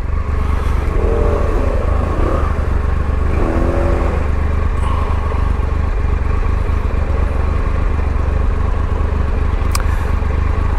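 Steady low engine drone of a moped moving through London traffic, with wind rumble and a few faint passing vehicle sounds and a brief horn-like tone.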